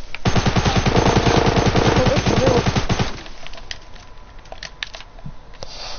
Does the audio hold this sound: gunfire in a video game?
yes